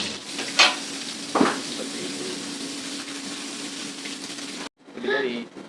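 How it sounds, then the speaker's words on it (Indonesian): Beef pieces frying in a pan for an Eid al-Adha meal give a steady close sizzle with a couple of sharp clinks of stirring, and then a short pause before more sizzle. "Sekarang lagi proses penggorengan."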